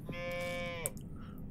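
A cow in the golf game What The Golf gives a single sustained moo lasting under a second, fairly close and clear, ending in a brief sharp click.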